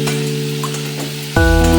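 Potatoes frying in a pan with dheki greens tossed in, a steady close sizzle that jumps suddenly louder and fuller as the greens hit the hot oil, with a faint tonal hum running underneath.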